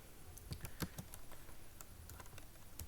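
Fingers type HTML code on a computer keyboard, a quick irregular run of soft key clicks, close and quiet, with no talking.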